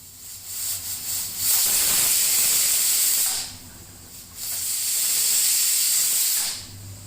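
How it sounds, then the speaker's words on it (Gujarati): A pressure cooker cooking drumstick curry lets off steam in two loud, sharp hissing bursts, each lasting a couple of seconds, separated by a brief lull with a quieter background hiss. "તો મિત્રો અહીં આપણી કુકરની બે સીટી થઈ ગઈ છે"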